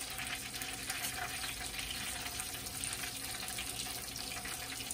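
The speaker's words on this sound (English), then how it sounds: "Here's your refried, rebattered catfish. Catfish deep fried twice." Battered catfish and white perch deep frying twice in hot oil, a steady, even sizzle with a constant hiss running throughout, fairly close and no voices.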